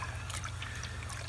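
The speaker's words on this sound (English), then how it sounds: "keep kneading it under the water" Water sloshes and trickles continuously as seitan dough is kneaded under water at a camping setup, a soft, close, steady liquid swirl with faint splashes and no talking.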